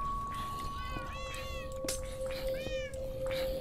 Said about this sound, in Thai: โอ้แมวโคตรเยอะเลยเว้ย